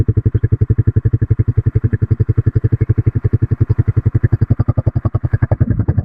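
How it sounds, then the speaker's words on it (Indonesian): A carbureted Honda CBR 150 motorcycle engine idles with a steady, even thumping pulse, close and loud, holding a smooth rhythm with no revving. "Ya nyalain dulu sekalian. Nah, langsung top share, nggak perlu digas, suaranya gurih."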